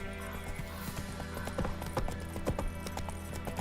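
Horse hooves clip-clop at a steady walking rhythm along a road in The Witcher 3, fairly quiet, over a low ambient game soundscape.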